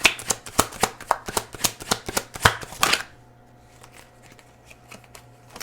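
A deck of tarot cards shuffled close up, giving a rapid, rhythmic run of crisp riffles and slaps for about three seconds, then a fainter rustle of card handling.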